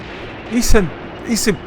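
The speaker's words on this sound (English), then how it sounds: "has to be indirect fire. These bastards are calling fire on me" Indirect artillery fire in the WWII tactics game Graviteam Tactics: two heavy booming impacts about a second apart, loud and close, with crackling debris in the mix.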